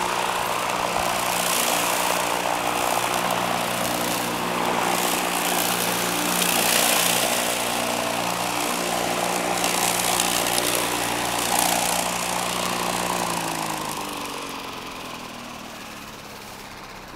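A custom electric lawnmower runs with a steady low droning hum and a broad whir for a long stretch, then winds down and slows near the end.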